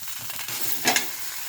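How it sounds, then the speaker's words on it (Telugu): Peanuts being dry-roasted and stirred in a pan for peanut chutney, a soft steady rustle and scrape that swells into a louder brief burst near the end. "పల్లీలను మంచిగా వేయించుకోవాలి"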